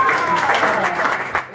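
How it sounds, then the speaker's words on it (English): A live-show audience applauds the performer Sammy Brew, a dense, steady wash of clapping close by, with voices mixed in and the clapping thinning slightly near the end. "But I just want to give another round of applause for Sammy Brew."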